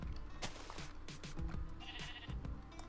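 A sheep in the game Minecraft bleats faintly amid a busy run of rhythmic clicking, thudding game sounds and a bright tone.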